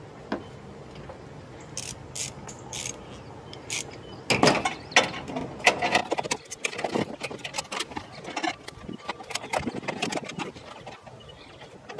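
A hand ratchet loosening 13 mm bolts on the radiator of a 2014–2019 Jeep Grand Cherokee, close rapid clicking bursts with metallic clinks, starting faintly and growing busier and louder, with no talk.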